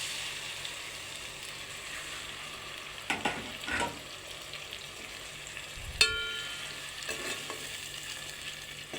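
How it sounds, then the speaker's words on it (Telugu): Mint paste fries with garam masala in a pan for pudina rice, a low, steady sizzle broken by a few scraping stirs and one sharp clack of a spoon against the pan. "మనం ముందుగా ప్రిపేర్ చేసి పెట్టుకున్న పుదీనా పేస్ట్ని ఇందులో వేయాలి"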